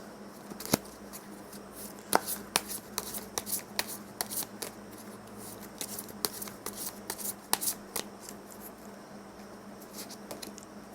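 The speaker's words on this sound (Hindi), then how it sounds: "5 कार्ड मैं और निकालूंगी।" Tarot cards being shuffled and drawn by hand for a reading, heard alone as a quiet run of soft slaps and flicks, with sharper card snaps landing irregularly throughout.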